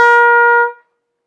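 Trumpet overshooting a large interval, a single bright held brass note rich in harmonics, played close and alone before it breaks off abruptly under a second.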